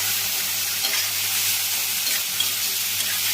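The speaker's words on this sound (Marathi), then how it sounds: "चांगला फ्राय करायचं." Tomatoes frying in a pan for a chicken gravy, a constant close sizzle with faint stirring and an even, unbroken texture, no voices.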